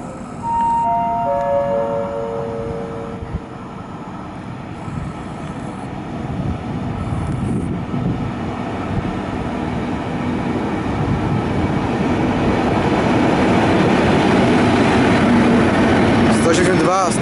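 At Łowicz Główny station, a locomotive rumbles through without stopping, loud and steady, building toward the end, after a chime sounds at the start; a station announcement voice carries over the noise.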